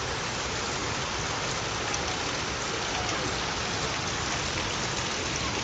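Rain falls outdoors in a constant, dense downpour, heard as an even, close hiss with no pauses and no voices.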